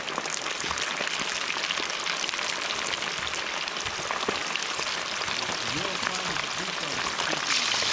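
Rain falling outdoors, a steady broadband patter and hiss of drops; faint voices talk over it toward the end.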